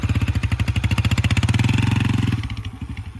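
A dirt bike fitted with an oversized rear sprocket runs with a loud, close, steady engine pulse that holds even before fading slightly near the end, with no talk over it.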